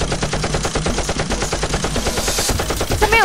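Rapid bursts of Nerf dart fire during a nerf war game, a dense run of sharp repeated shots filling the whole stretch, loud and close, with no talk over it.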